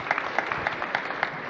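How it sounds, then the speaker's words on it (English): Audience applause during a talk on the polar ice crisis, a brief patter of scattered claps at moderate volume with no voices. "please give a round of applause for these outstanding humans who are doing the right thing"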